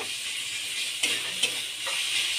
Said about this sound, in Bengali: এবার ওর মধ্যে 1 চামচ মতো রসুন বাটা দিয়ে একটু ভেজে নেব।